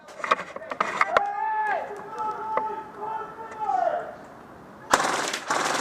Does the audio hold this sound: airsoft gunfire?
yes